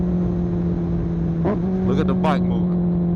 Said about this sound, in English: I was ready to sell this bike because I just couldn't handle the downshifts